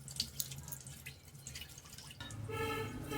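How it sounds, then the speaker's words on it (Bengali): Water runs and splashes as trimmed coconut leaf sticks are rinsed clean under a tap, a soft, close trickle with scattered drips and no talking. "এবার সুন্দর করে আমি ধুয়ে পরিষ্কার করে নিচ্ছি।"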